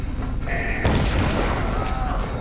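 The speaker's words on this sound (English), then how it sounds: "He just shot his own guy." A gunshot from a guard in the Dishonored game, a sharp blast breaking in mid-clip and followed by a rumbling decay over game ambience and a brief tone.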